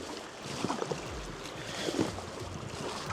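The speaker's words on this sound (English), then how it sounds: "So I'm currently paddling upriver." A kayak paddled upriver, with soft water swishes and faint splashes from the blades against a steady wash of moving river water and a light breeze.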